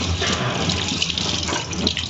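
Water runs steadily from a kitchen tap, a loud, continuous broadband splashing rush close by with no talk.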